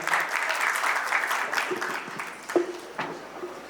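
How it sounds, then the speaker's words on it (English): An audience at a live stage event applauds a performer with a burst of clapping that thins toward the end, a few louder individual claps and faint voices mixed in. "Can we have a big round of applause for him as well?"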